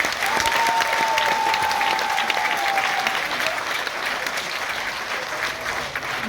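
Loud, sustained audience applause fills a New Delhi celebration event, dense clapping from a large crowd continuing steadily throughout without letting up.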